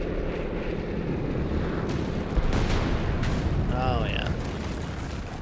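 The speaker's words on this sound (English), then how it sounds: "Imagine that, an airstrike on the enemy this time." Airstrike explosions in Company of Heroes 3's North Africa campaign, a thick rolling roar of blasts with a sharper impact partway through and a whining tone near the end, as a voice speaks briefly.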